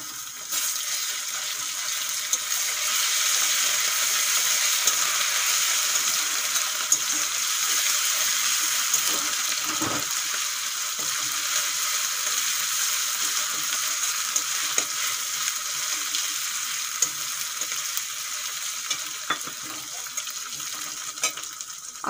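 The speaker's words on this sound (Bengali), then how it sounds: "এখন দিয়ে দেবো আদা রসুন বাটা।" Ginger garlic paste frying with onions in a pan, a steady close hiss and crackle of hot oil with occasional stirring scrapes, continuing for a long stretch without speech.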